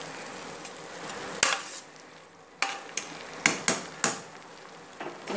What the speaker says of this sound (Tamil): போட்டுட்டு ஒரு கிளறு கிளறிட்டு